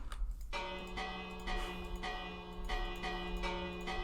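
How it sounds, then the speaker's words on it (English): The Prime bell struck repeatedly in a video game, a series of resonant metallic bell tolls about every half second, each ringing with sustained overtones that overlap into the next, clear and fairly close with no talking. "I haven't rung the Prime bell in a while."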